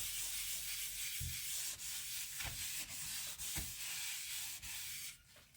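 Paper rubbing across a wooden and resin cheese board, a continuous close scratchy wiping with brief pauses and light knocks between strokes, no voices.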